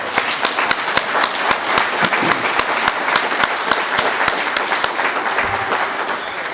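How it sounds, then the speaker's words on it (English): Dinner guests at a community foundation's founders day event give an honoree a big round of applause, a dense, steady, loud wash of clapping with a strong rhythmic beat of claps running throughout. "let's give him a great big round of applause"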